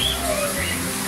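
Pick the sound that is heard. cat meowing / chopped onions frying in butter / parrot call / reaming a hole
parrot call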